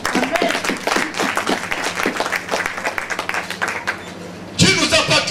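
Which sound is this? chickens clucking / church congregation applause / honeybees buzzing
church congregation applause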